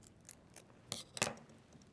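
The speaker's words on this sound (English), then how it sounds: "I need to trim this one down a little bit to make it fit." Scissors trimming a small piece of Velcro for a kids' craft project make a few quiet, close snips, with two sharper cuts near the middle, and no talking.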